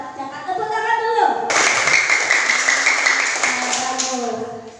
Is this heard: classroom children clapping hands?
yes